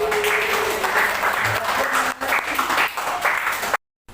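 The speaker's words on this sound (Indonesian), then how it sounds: "Tepuk tangan buat" Applause from classmates after a class presentation, a few seconds of steady clapping with some voices in the background before cutting off abruptly.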